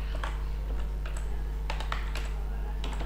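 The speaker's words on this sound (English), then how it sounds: "So I will type" Quick, close clicking of keys on a computer keyboard in short irregular bursts over a steady low hum, with a voice speaking in the background.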